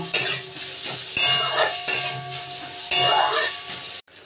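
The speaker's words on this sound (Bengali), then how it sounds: "এবার ভালো করে পেঁয়াজটা ভেজে নেব।" Onions and garlic sizzle in a hot pan while a utensil stirs and scrapes in short repeated strokes, close up.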